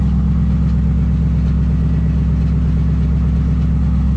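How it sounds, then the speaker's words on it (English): A 2002 Pontiac SLP Firehawk V8 idles steadily in neutral through an SLP dual exhaust, a deep, even burble that stays close and loud with no voices. "let you hear the SLP dual exhaust"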